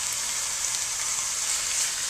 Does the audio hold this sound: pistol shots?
no